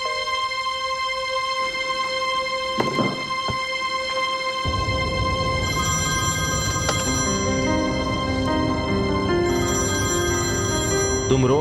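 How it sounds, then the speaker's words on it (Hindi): A telephone rings with a steady electronic tone that repeats, sustained and loud, while a dramatic musical score with swelling strings plays underneath and builds in the latter half. "फोन उठाओ, फोन उठाओ, जल्दी करो।"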